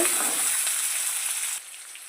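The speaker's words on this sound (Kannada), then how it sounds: "ಈರುಳ್ಳಿ ಸ್ವಲ್ಪ ಕೆಂಪುಗಾಗವಾಗ ಫ್ರೈ ಮಾಡ್ಕೋಬೇಕಾಗುತ್ತೆ" Onions frying in hot tempering oil for mosaru oggarane rice, a steady loud sizzle that drops slightly in level near the end.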